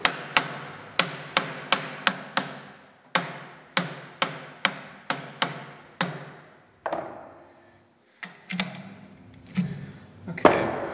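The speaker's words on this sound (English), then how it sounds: "Let me get a soft hammer here." A series of sharp soft-hammer taps on a still-warm etching press handwheel in quick groups, about fifteen strikes with short pauses between bursts, close and fairly loud.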